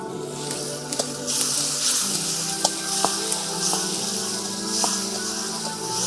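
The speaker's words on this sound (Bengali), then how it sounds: "দিয়ে দেবো রসুন বাটা" Garlic paste sizzling in hot oil in a pan for a potato and fish curry in a village kitchen, a steady close frying hiss with occasional sharp pops and spatters throughout.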